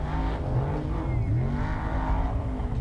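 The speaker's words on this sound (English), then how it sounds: "Just hear that truck work." Unlimited off-road race truck at the Mint 400 desert race, engine revving and working hard with wavering pitch, moderately distant and steady throughout.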